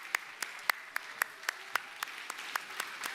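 Slow, sparse hand claps from a church congregation ring out at a steady rhythm, about a dozen distinct claps spaced roughly evenly, moderately distant in a reverberant room.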